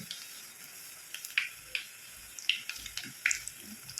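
Ginger fries in a pan for a fish curry, a soft, steady hiss with a few brighter crackles and light stirring scrapes, and no talk.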